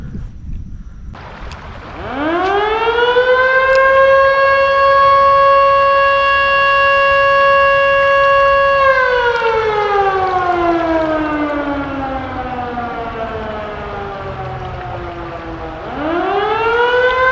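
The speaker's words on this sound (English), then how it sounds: "I didn't know there was a siren over there." An outdoor civil defense siren winds up, holds a loud steady wail, then slowly falls away before starting to rise again.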